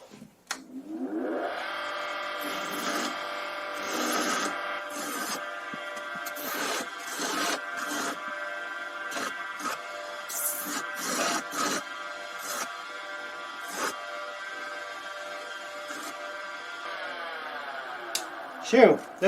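Rough bits of metal being ground off a workpiece before lathe work: a close, steady whirring whine broken by repeated scraping bursts of the grinder biting into the metal.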